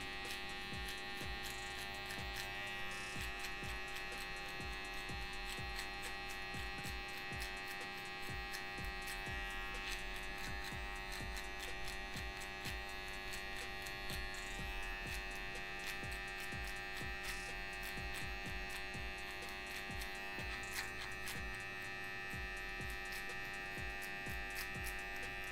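A small finishing trimmer buzzes as it cleans up the edge of a fade on spiky hair. The faint, steady electric hum has slight flutter as the blade works, and there is no talking.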